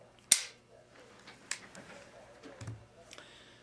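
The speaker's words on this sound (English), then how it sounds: "Just put your slide back on, rack the slide, and it automatically locks back into position." A Beretta 92A1 pistol slide is racked and snaps into its locked position: one sharp metallic clack, followed by a few faint clicks and light handling noise. The action is quiet and close-up.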